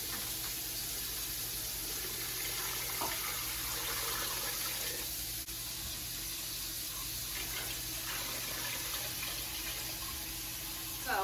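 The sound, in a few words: filling pot with water over ham hocks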